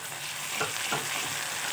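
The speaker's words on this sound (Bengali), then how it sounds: "পেঁয়াজগুলো ভালোভাবে ভাজা ভাজা হয়ে এলে যে আদা রসুনের পেস্টটা করে রেখেছি ওটা আমি ওর মধ্যে দিয়ে দেব" Sliced onions fry with ginger-garlic paste for a jackfruit dish cooked in goat fat, a steady close sizzle with a couple of soft stirring scrapes, no voices.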